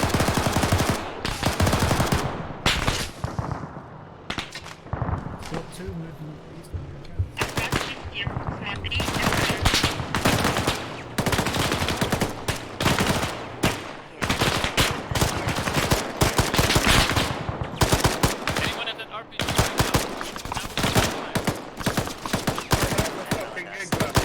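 An enemy technical in the ArmA game fires its machine gun in repeated loud bursts of rapid shots across a long stretch, with short gaps between the volleys.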